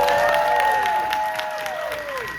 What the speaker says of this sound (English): Let's give a big round of applause to the guy who owns Broken Handle Productions, Angel Peavy.